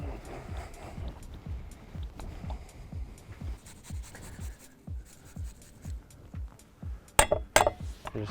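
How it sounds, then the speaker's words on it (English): A spoon stirs squeezed winter tomatoes with salt and olive oil in a bowl outdoors, making soft, rhythmic scraping and sloshing strokes at a steady pace, followed near the end by a couple of sharp clinks. "Just stir that together."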